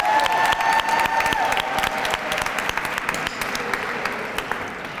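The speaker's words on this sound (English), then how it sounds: "can we give another round of applause for John Marshall High School?" An audience at a school performance of The Wiz applauds and cheers for John Marshall High School performers, loud continuous clapping with crowd noise that gradually eases off.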